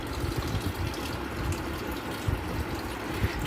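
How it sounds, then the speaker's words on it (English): Water pouring from a pipe into the tank of a Kenstar 60-litre desert air cooler, a continuous close gushing splash that stays steady throughout. "I'm filling it with this pipe since I don't want to take the risk of filling it with a jar or something"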